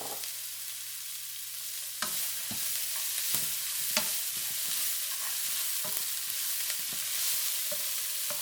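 Onions frying and being stirred in a pan for ginger shrimp fried rice: a steady close sizzle with repeated sharp clicks and scrapes of a utensil against the pan, heard alone with no talking.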